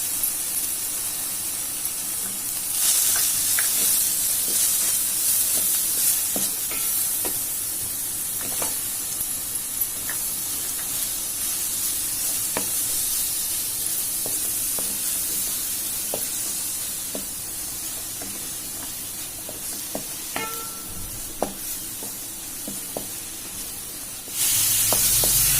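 Finely chopped cabbage sizzles steadily in a hot pan with a continuous hiss, broken by soft scraping stirs and occasional clicks, no voices.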